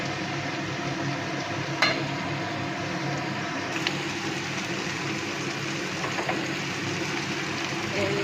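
Steady sizzling of dried fish and tomatoes frying with onions in a pan, a continuous crackling hiss with a couple of brief clinks, no talking.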